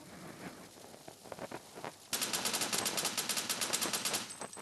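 Gunfire in a first-person shooter similar to CS:GO: a few scattered shots, then a loud, rapid burst of automatic fire that hammers on steadily for over two seconds.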